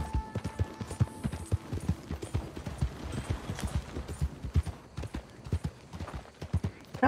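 Horse hooves galloping in Red Dead Redemption 2, a fast, steady clip-clop rhythm of hoofbeats heard close, with faint background ambience.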